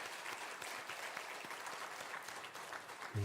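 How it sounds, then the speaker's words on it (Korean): Church congregation applauding to congratulate a newly married family at a Sunday worship service, a steady wash of clapping across the whole stretch, moderately distant, with a louder thump at the very end. "사랑하고 축하하는 의미로 박수 한번 보내도록 하겠습니다."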